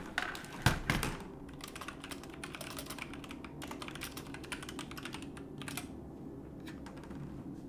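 Rapid, quiet clicking of fingers typing on a computer keyboard, with a couple of louder thumps at the start, then a steady patter of keystrokes heard up close.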